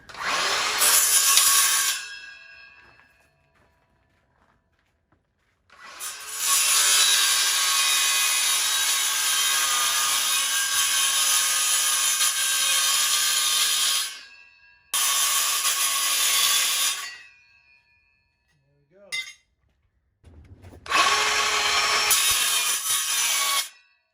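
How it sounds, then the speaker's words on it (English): A regular saw cuts through soft aluminum parts of an 8-foot stair kit in loud, harsh bursts: a short cut, a long sustained pass, then several shorter runs separated by silences. "use just a regular saw because aluminum is so soft that you don't have to get any special blade"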